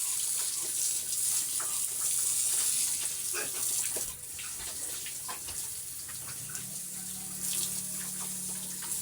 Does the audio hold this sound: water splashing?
yes